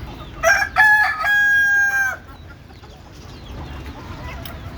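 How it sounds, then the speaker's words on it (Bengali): A rooster lets out one loud, close crow with a few clucks, on a village farm where hens are let loose, then a quiet background follows. "দেখেন মুরগি চিল্লাচ্ছে"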